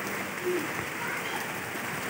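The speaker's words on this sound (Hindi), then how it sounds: "बारिश तेज़ हो गई है बेबी" Heavy rain falling outdoors, a dense steady hiss of drops that holds evenly throughout at moderate volume, with no clear speech over it.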